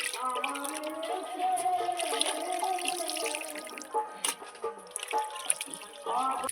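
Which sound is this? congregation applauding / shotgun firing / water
water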